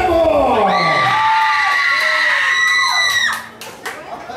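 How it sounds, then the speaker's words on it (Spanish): A crowd at a radio karaoke and bingo event erupts in loud, high-pitched cheering and whooping, sustained for a few seconds before fading into scattered shouts. "¡Aplausos para el amigo de Cartago!"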